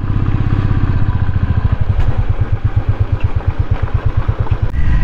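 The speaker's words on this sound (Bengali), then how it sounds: "তবে বাইক চালাচ্ছি এখন" A motorcycle is ridden along a hilly mountain road near Rinchenpong in West Sikkim. The engine throbs in a loud, close, rapid rhythmic beat that holds steady throughout, with no talking.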